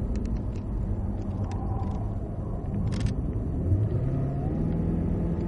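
A Cadillac CTS-V braking hard on a race track, its engine note dropping to a low rumble as the car slows, steady and close throughout without speech.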